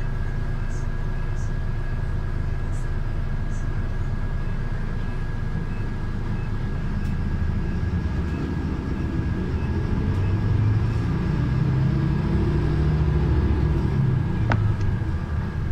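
Riding a bus from the downtown Chiang Rai bus station to the airport, a constant low engine and road rumble drones steadily, with faint rattles and a brief click near the end.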